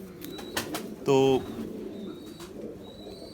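Pigeons in Rawalpindi coo softly in low, murmuring calls near the microphone, while someone speaks briefly in the middle and other faint bird sounds chirp in the background.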